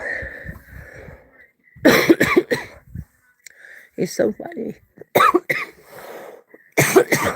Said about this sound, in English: I had to mute for a second because I could stop coughing.